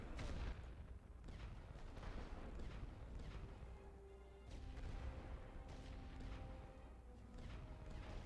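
An artillery barrage in The Great War Western Front, a quiet, distant run of booming shots and rumbling impacts across the battlefield, with a few faint tonal effects in between.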